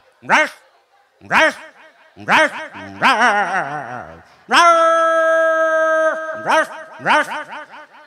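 A human voice imitates a stray dog barking at a monkey in short, repeated yelps, with one drawn-out howl in the middle, loud and close.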